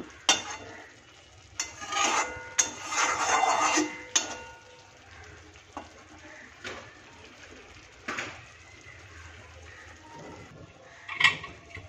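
A lid set over a pan of potatoes simmering in half a cup of water, with clattering metal, scraping and stirring sounds in short bursts, close and fairly loud, then quieter sizzling.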